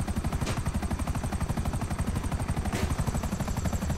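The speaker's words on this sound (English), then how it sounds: "Helicopters are hunting." Steady rapid rotor thumping of helicopters in GTA 5 Online, loud and close, with a couple of brief bursts layered over the continuous chop.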